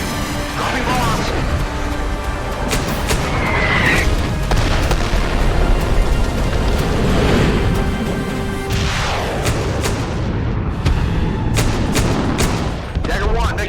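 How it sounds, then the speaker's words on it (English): Bombs dropped in a cinematic airstrike burst as deep booms and rumbling blasts, layered with gunfire-like cracks and whooshing effects, loud and dense throughout, with voices mixed in. "Smoke in the air, dropping flares. Dropping bombs."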